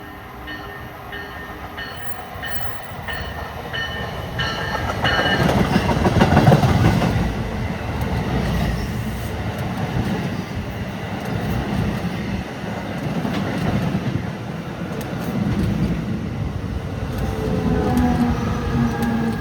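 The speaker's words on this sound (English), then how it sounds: "Here comes another one. This is a local train." A local passenger train rolls steadily past a station platform at Princeton Junction with loud continuous rumble and rail clatter, swelling as it nears and then holding a sustained roar.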